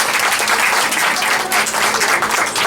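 Audience applause for Senator Scott, a steady, full burst of clapping from a crowd filling the room, loud and unbroken throughout.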